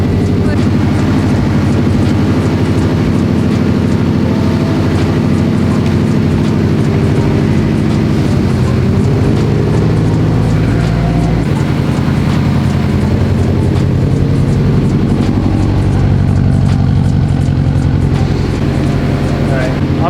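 A wrecked Subaru STi drives along, its engine and road noise forming a loud, close, continuous drone that holds steady from start to finish.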